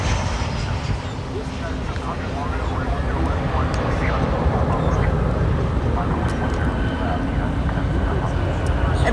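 Southwest Airlines Boeing 737-700 arriving at Fort Lauderdale airport, a loud, steady jet engine roar and broadband rumble that holds throughout, with a faint high whine above it.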